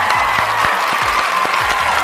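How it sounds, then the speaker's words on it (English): A seminar audience breaks into steady, dense applause, many hands clapping close by at an even level throughout with no voices on top. "Give it applause, everybody."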